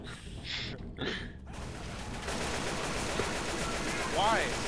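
Bursts of rapid gunfire from a Left 4 Dead 2 co-op match, dense automatic fire under a faint gasp, with quieter shots early and a louder sustained stretch toward the end.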